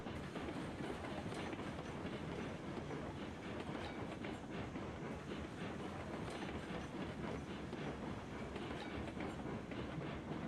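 Montezuma steam locomotive hauling a long train in the game Railroads Online, heard as a steady loud rumble with rhythmic wheel clatter over the rails, continuous throughout with no voices.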